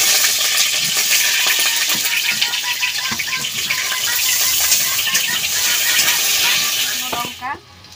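Eggplant pieces fry in hot oil with a steady, close bubbling sizzle and scattered pops throughout, a few utensil clinks near the end as the sizzle drops away; a voice speaks over the cooking.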